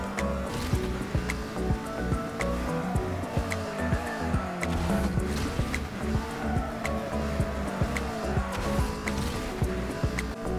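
Race car drifting through a corner in Ace Racer, with a steady engine drone and tire noise that stay loud and continuous throughout, and no break in the sound.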